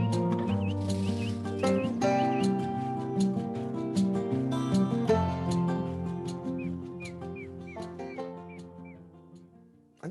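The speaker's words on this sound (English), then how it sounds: "I just noticed there's a bird in that music." Outro music of a golf podcast with a small bird's chirps woven in, short repeated tweets riding over a steady layered instrumental bed, clear but mixed beneath the music throughout.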